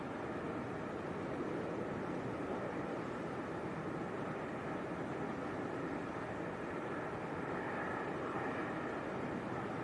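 At Leeds Bradford Airport in storm-force winds, a steady, broad roar of an approaching airliner blends with gusty wind noise, continuous and fairly distant, with no talking.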